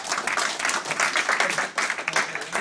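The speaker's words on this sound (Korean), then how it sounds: "이동식에게 큰 박수 한번 부탁드리겠습니다" An audience applauds during a prize draw at a Salomon and Atomic ski camp in the Canadian Rockies, steady dense clapping from a nearby crowd filling the whole moment without pause.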